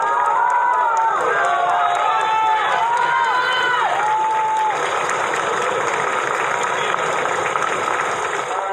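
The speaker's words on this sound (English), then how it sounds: "crowds were waiting for him outside, ready to cheer him on." A large outdoor crowd in Strasbourg cheers and applauds the arrival of Pope Francis, a dense continuous roar of voices and clapping with rising whoops and shouts early on, loud and sustained throughout.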